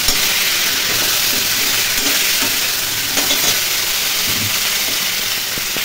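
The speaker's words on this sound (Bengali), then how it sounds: "এখন তরকারিটা বসিয়ে দিলাম পটল আর আলু দিয়ে।" Pointed gourd and potato curry frying loudly in a pan, a continuous close sizzle and hiss with occasional stirring scrapes and no voices.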